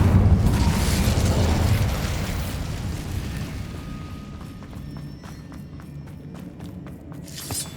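Incendio fire spell from Hogwarts Legacy bursting with a loud, broad whoosh of flame that swells at once and fades over several seconds, leaving faint crackles and small clicks behind.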